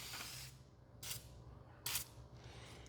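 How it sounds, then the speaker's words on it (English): Lubricating oil sprayed from a small can onto a set of drill bits, three short hissing bursts spaced about a second apart, close and fairly quiet in a still workshop. "I'm just gonna use a plain oil here, this lubricating oil, a little spray form"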